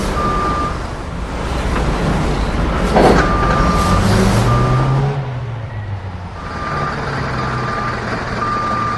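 A truck arrives at a hydraulic crane site, repeating reversing beeps sounding at a steady interval over a loud, continuous engine rumble, with a brief rising hiss of air in the middle.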